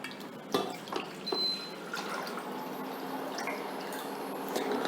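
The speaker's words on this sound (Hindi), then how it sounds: "सबसे पहले एक भगोने में हम पानी ले लेंगे।" Water poured into a cooking pot in a home kitchen, a litre measured out for an herbal decoction; a steady continuous splashing pour with a few drips and clinks, close and moderately loud, no talking.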